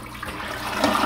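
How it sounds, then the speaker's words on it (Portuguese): A toilet flushes in a freshly deep-cleaned bathroom, a loud close rush of water that swells toward the end, with no voices over it. "mas é só dar descarga, ó."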